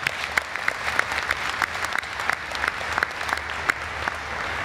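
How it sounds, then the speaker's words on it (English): A crowd applauds at the Dodge Challenger SRT Demon reveal event, a loud, dense and sustained round of clapping with a few sharper individual claps standing out. "Round of applause for Patty, please."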